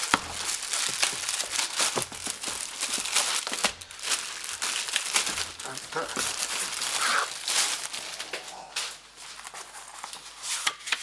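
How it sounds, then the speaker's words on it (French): Packaging for a Dicota laptop sleeve crinkles and rustles near the mic as it is unwrapped, with irregular crackling bursts throughout while a voice speaks over it. "Je vais vous le déballer."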